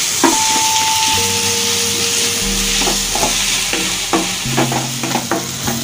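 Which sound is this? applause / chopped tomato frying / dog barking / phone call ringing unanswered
chopped tomato frying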